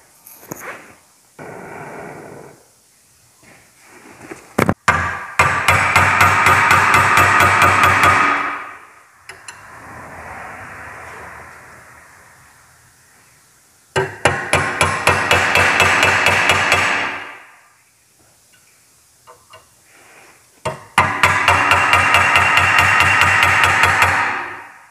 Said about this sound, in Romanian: E vorba de un T20, trebuie ajutate, încălzite prima dată, apoi cu puțin impact